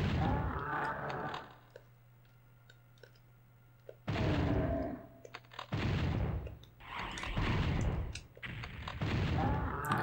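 Shotgun blasts in the video game Doom 64, several loud, booming shots arriving in separate bursts with short quiet gaps between them.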